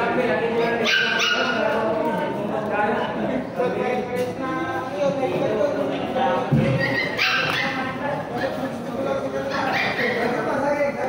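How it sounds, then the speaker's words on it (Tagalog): A dog barks and whimpers with short yips in a lively outdoor gathering around a boodle fight feast, while several people talk and laugh over it throughout. "May aso pala dito."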